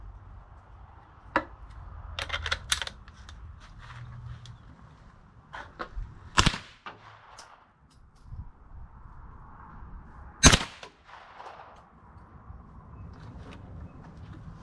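Suppressed shots from a B&T SMG-M-9 submachine gun during a velocity test, heard as a few scattered sharp cracks and clicks among quieter handling noises, with two standout reports.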